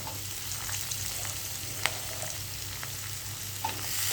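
Chopped pointed gourd frying in hot oil, a steady, fairly quiet sizzle with occasional light taps and scrapes of a stirring utensil against the pan.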